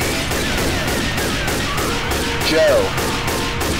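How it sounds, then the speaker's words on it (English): Grenade launcher fire in Left 4 Dead 2, heard as dense, repeated blasts with a louder burst near the middle, with frantic players shouting over the chaotic combat. "Stop with the fucking grenade launcher"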